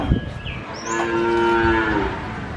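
A pregnant Limousin cow, seven months along, gives one loud, drawn-out moo at the Nglangon livestock market in Sragen, close by over faint crowd bustle.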